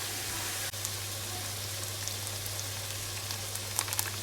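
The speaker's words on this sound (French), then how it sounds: "une fois le beurre dans la casserole, il n'y a plus qu'à attendre que ça fonde" Butter melting in a saucepan gives off a soft, steady sizzle and crackle. It runs continuously with faint pops and sits over a low hum.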